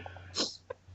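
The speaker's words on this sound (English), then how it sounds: "Did somebody sneeze just now?" A single short, sharp sneeze-like burst from one person nearby, followed a moment later by a brief faint vocal click, over a steady low hum.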